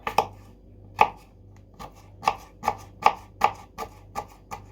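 A knife chops vegetables on a board in crisp, separate strokes, about a dozen in an uneven rhythm, close and clear with no talking.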